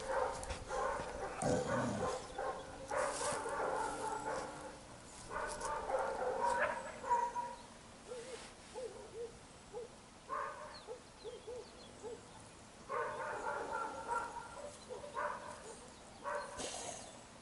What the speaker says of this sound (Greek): Ναι, ωραίο σκυλό είναι αυτό.